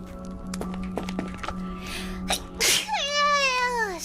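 Several small sneezes in a row from a person, with light taps and thumps around them, followed by a soft, wavering vocal sound after the last sneeze.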